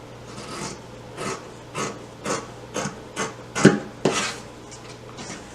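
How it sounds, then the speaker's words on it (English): Scissors trim the fabric edges of a sewn clutch in a series of about nine rhythmic, close crisp snips, each a short rasping cut over a low steady hum. "I'm also going to trim the top and the sides."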